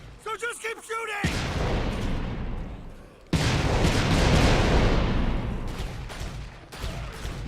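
Sustained bursts of gunfire and heavy blasts from shooting at an endless horde in the Dead Rising video game, loud and dense, with a short pause partway through.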